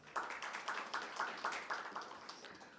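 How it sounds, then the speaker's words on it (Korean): An audience at a Korean technology business briefing claps in a short, fairly soft round of applause, with an uneven patter of hands settling into a loose rhythm for a few seconds. "원장님께 다시 한번 큰 박수 부탁드립니다"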